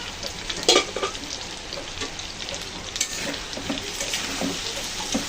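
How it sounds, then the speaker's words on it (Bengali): Prawns, boiled potatoes and soybean chunks sautéing with spices in a pan: a continuous sizzle with scraping stirs and a few sharper clatters, moderately loud, without talk. "দেখুন কত সুন্দর করে সব মশলার সাথে চিংড়ি মাছ, আলু, সয়াবিন কষিয়ে নিলাম"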